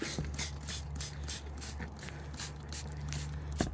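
A pump spray bottle squirts a mix of degreaser and Dove dish soap onto a Mitsubishi Eclipse engine, a series of short hissing spritzes, close and fairly quiet, with a steady low hum underneath.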